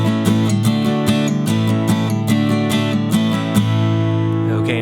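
Acoustic guitar strumming the last two measures of a song, rhythmic down and up strokes with sharp repeated attacks, close and steady with no talking.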